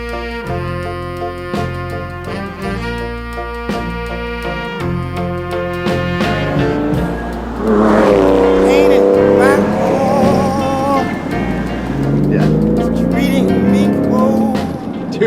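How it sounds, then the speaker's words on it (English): A rescued, previously abandoned Porsche 911 on the move, its engine note droning steadily and then rising in pitch with strong intake sound as it accelerates hard, loud and close, with talk over parts of it. "this car sounds so much better. I hope it comes across on camera. You can really hear the intake, and it sounds sick."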